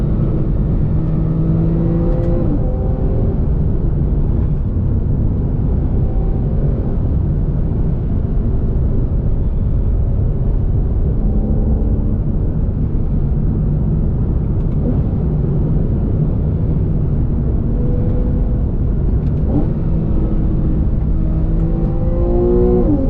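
A Porsche 911 Carrera of the 991.1 generation accelerates to overtake on the road, its engine droning loud and steady from inside the cabin, pitch climbing through gears with brief shift dips.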